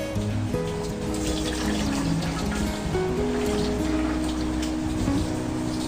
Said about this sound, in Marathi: नूडल्स मधून मी पाणी काढून घेणार आहे.